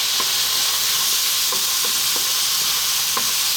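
Tomatoes with salt and spices cooking in a pan for an Ethiopian egg breakfast, a dense continuous sizzle with a few soft scraping stirs scattered through it, close and fairly loud with no talking.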